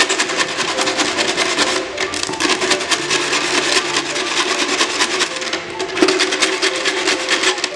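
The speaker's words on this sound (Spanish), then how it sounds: "vamos a lijar." Sandpaper rubbing back and forth along the freshly cut edge of a PET plastic bottle, a steady close raspy scraping that continues throughout without speech.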